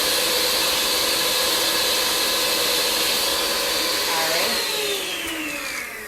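An electric mixer whirs through batter with a steady, loud, close motor whine that slides lower in pitch and softens toward the end, with no talking.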